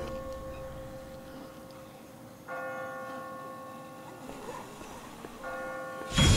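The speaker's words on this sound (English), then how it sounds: "I just got spooked by those bells" Church bells ringing in The Walking Dead video game, heard as several sustained tolls over a low ambient background, ending in a sudden loud burst.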